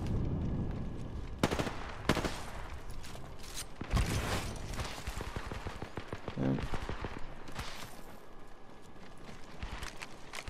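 Gunfire in a multiplayer shooter video game, with scattered shots and rattling bursts at moderate loudness amid busy game sounds.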